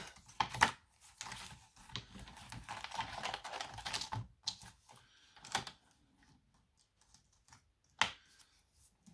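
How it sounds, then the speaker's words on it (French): A paper trimmer (massicot) slices through paper for a small handmade pouch, giving close, sharp clicks and scraping bursts in irregular groups, separated by quiet pauses, with no talking. "vous prenez votre massicot et on va couper"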